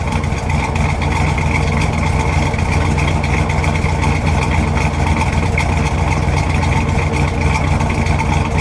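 A 1967 Oldsmobile 442 Cutlass Supreme sports coupe engine idles steadily with a deep, loud, even rumble throughout, no voices over it.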